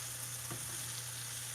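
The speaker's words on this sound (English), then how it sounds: "we're just going to saute this up, and I want to get like the corn to be really nice and browned" Corn, onions and chicken sautéing in a pan for tacos, a faint steady sizzle with a low background hum and one brief stir or clatter.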